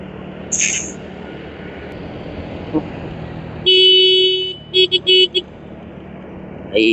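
A vehicle horn on a busy road gives one long loud blast followed by three short quick toots, close and sharp over steady traffic and engine noise.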